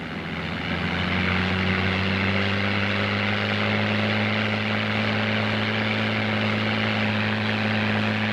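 A WWII-era propeller fighter takes off at full power with the propeller at maximum 3,000 RPM: a loud, steady engine drone with strong low harmonics swells up over the first second and holds unbroken to the end.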